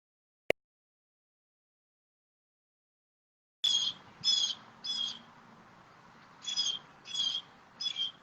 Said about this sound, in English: is that Miss Bird is just really chatting away